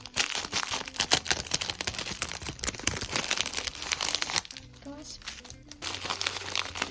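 Close, continuous crinkling of a paper surprise packet being handled, with someone talking over the rustling.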